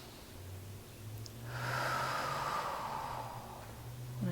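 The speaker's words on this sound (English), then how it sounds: "making sure we're getting big inhales, exhales" A slow, deep breath drawn in and let out during a yoga practice for pelvic floor relaxation and diaphragmatic breathing, a soft airy rush lasting a couple of seconds over a quiet low hum.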